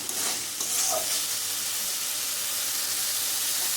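Spice paste stirred and frying in hot oil as the oil separates at the edges, a steady close sizzle with a scraping stir near the start, no talking.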